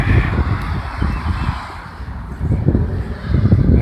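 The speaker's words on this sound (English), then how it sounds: "Some Canadian geese" Canada geese honk in a loose, overlapping outdoor chorus along an old railroad-crossing trail, the calls rising and falling over a dense, steady background.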